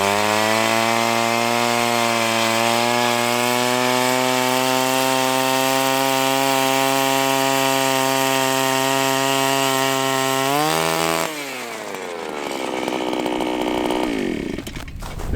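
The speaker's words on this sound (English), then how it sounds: "So now I'm going to drill straight down." A gas-powered ice auger runs loud and steady, its engine drone holding constant for about eleven seconds before the pitch drops and rises again as the bit bores straight down through ice.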